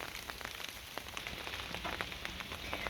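Steady rain falling outdoors onto fruit trees with apples and pears, a dense, even patter with scattered closer drop impacts throughout, no voices.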